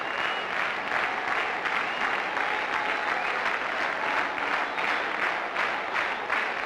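A small crowd applauds a half-century at a 1996 World Cup cricket match between the Netherlands and the UAE, giving steady, even clapping that carries on throughout at moderate distance.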